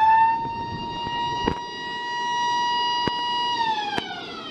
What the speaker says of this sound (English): eventually I heard a loud siren signaling the ride was ready to test